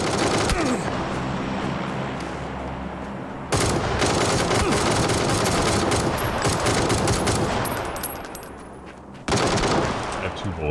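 Dense video-game gunfire in a shootout: rapid automatic bursts ring out loud and close, with a brief lull, then heavy firing resumes; a voice is faintly audible under the shots.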